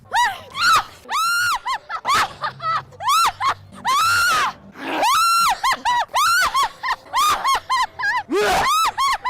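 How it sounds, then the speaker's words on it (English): A woman shrieks again and again at Halloween Horror Nights. The high screams come in bursts, some drawn out and some short, and a few moan-like sounds fall between them. The voice is close and loud, with no other speech. "Those were shrieks of excitement because I was so thrilled to be there."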